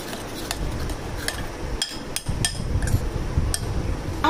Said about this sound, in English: Let's nicely mix.